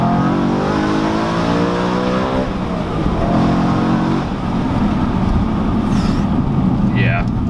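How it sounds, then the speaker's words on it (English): A BMW E90 M3 engine revs hard, rising and falling through several sharp throttle blips before settling into a loud, steady drone up close, with voices faintly present in the background. "that's a great sounding engine"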